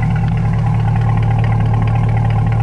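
A Chevrolet Corvette C8 idles steadily after a ported throttle body install, giving a loud, continuous deep low rumble with a slightly lopey pulse, close to the car and with no other sounds.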